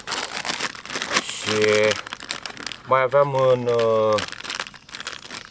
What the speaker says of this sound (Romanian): Am aici o pungă